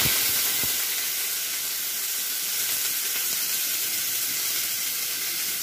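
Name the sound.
beans and carrots frying in hot oil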